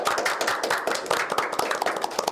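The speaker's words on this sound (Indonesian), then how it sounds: "Oke, tepuk tangan semuanya." Small audience of an Indonesian talk show claps for a horror film crew, a loose group of distinct hand claps with a quick, uneven rhythm, close and fairly loud.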